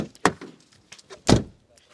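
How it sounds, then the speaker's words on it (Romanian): Car door of a new 2023 Dacia Logan facelift being shut, two solid thuds about a second apart, the second louder and heavier, with faint background noise and no talk. "Hai să vedem cum se aude ușa când o închizi la nou Logan."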